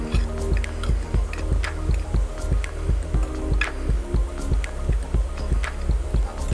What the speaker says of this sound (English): So what I'm going to do is to mix this pretty well.